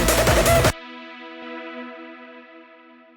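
A dense burst of synth sound cuts off abruptly, leaving a smooth sustained synth pad reverb tail that rings on and slowly fades.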